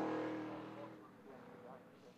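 A 4-litre V8 classic race car passes at a circuit, its engine note loud at first and fading as it pulls away, with a steady droning roar that thins over a couple of seconds.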